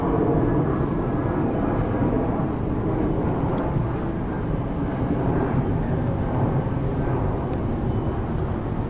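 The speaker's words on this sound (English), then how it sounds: "I'm gonna wait till this plane goes over." A steady low roar of an airplane passing overhead in Juneau, Alaska fills the scene, broad and continuous with no voices.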